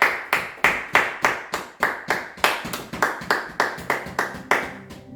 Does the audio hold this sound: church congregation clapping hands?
yes